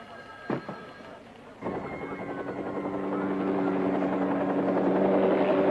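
A helicopter's rotor chop starts after a couple of sharp bangs and grows steadily louder and closer, a rhythmic thudding whine filling the air.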